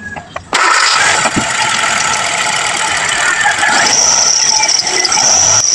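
A car engine cranks and catches after its spark plugs are swapped, bursting from a quiet start into a loud, steady run that holds near and alone, with a brighter high whine settling in toward the end.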